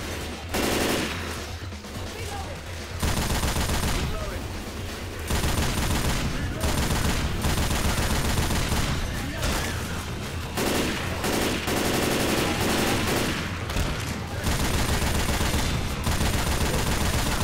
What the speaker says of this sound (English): This isn't a very accurate gun, so it's kind of difficult to shoot things